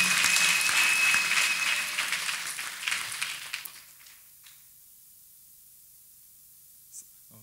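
A church congregation claps together in a strong round of applause that thins and fades away over about four seconds, leaving near silence.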